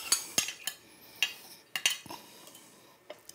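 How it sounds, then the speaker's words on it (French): Utensils clink and tap against a plate as sautéed swordfish pieces mixed with shallots are arranged, several sharp, close metallic knocks spaced irregularly over a quiet background. "Dans l'assiette, je vais ranger les morceaux d'espadon qui ont été revenus, mélangés avec des échalotes."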